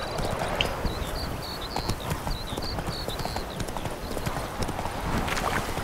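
Horse hooves clip-clopping in The Witcher video game, a steady rhythmic trot of hoof beats heard alongside a continuous ambient game backdrop, with chirping birdlike tones over the top.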